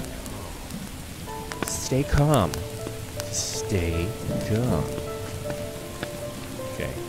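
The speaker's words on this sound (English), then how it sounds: "It's a little rain. It's not like it's acid rain" Rain patters steadily through a PS1-styled horror video game, a constant wash beneath swooping synthetic tones, with a person talking nervously over it.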